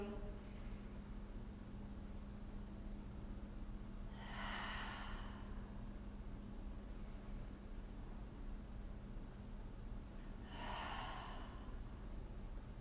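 Two slow, soft breaths during a yoga flow, each a faint airy whoosh lasting about a second, spaced several seconds apart over a quiet low hum.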